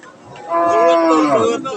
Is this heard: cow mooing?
yes